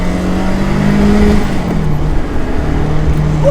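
A turbocharged car engine, mounted behind the seats, hums loudly and steadily under acceleration, its tone dipping slightly midway before holding a sustained drone.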